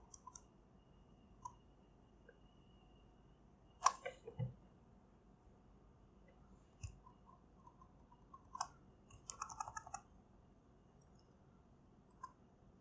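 Computer keyboard shortcut keys are pressed in scattered, faint clicks, with a few sharper taps, in a quiet room.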